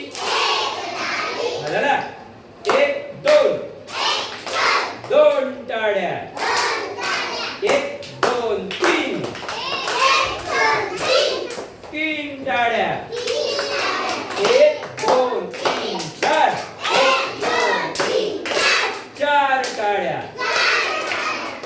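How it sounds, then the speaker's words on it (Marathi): Young pupils in a first-grade classroom clap their hands in quick bursts of claps, repeated throughout amid a teacher's voice and children chanting and talking over them. "चला टाळी वाजूया एक टाळी"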